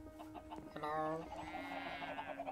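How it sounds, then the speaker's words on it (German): Chickens clucking in Minecraft, a short burst of bright, close fowl calls with faint background sounds. "Da sind noch mehr Hühner."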